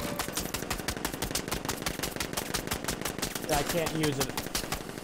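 Rapid gunfire bursts from Batman Arkham Knight gameplay, a dense stream of sharp shots rattling continuously at steady loudness, with a voice speaking briefly over the shooting.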